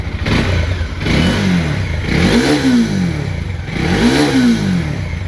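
Bajaj Dominar 400 motorcycle engine running after a clutch plate change, revved three times in a regular rhythm, each rev rising and falling over a steady close idle clatter.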